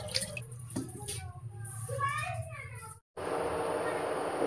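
Rice is washed in water, with close splashing and sloshing broken by a brief pause before a steady rush of running water. Talk is heard over part of it.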